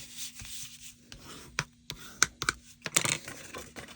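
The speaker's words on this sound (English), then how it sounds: "I'm going to fold this in half, bring in my bone folder" Card stock folded in half and creased with a bone folder, heard as a series of short scraping rubs and sharp swipes at close range, irregular and quiet, with no talking.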